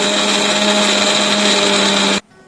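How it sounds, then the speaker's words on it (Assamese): An electric blender grinds ginger, garlic, chilli and onion into a paste, a loud, steady high-pitched whir that runs continuously and then cuts off abruptly near the end. "ইয়াত আছে আদা, নহৰু, জলকীয়া আৰু পিঁয়াজ। এইখিনি আমি একেলগে পেষ্ট বনাই লওঁ।"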